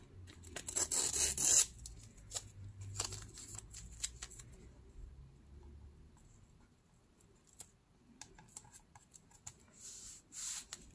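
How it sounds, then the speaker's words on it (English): Brown packing tape being pulled and torn off the roll with a loud, close ripping burst, followed by soft rubbing, pressing and patting as it is applied to packaging. "I'm gonna add a little bit of brown tape."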